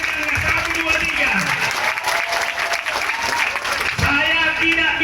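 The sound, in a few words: audience applause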